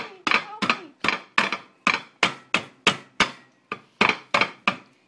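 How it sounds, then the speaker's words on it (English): Almonds crushed in a pot with repeated pounding, about a dozen sharp, evenly spaced thuds in steady rhythm, loud and close with no talking. "we're going to go ahead and crush the almonds"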